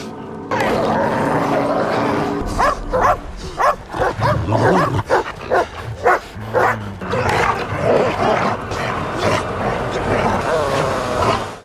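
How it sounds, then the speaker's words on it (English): Wild dogs in a desert film scene attack a man, with growling, snarling and yipping bursts in a loud, chaotic run over a dense, steady soundtrack. "the wild dogs attack Virgil and drag him away"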